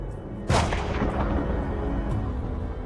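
Gunfire from a firing squad executing plotters after the failed July 1944 coup against Hitler, one sharp loud burst followed by a sustained rumbling echo that lingers and slowly fades, with no talking.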